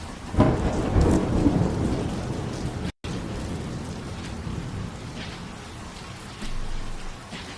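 Steady heavy rain pours with rolling thunder rumbling through it in a video game intro, loud and continuous, with a brief dropout partway through.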